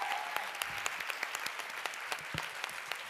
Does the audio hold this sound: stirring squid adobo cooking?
no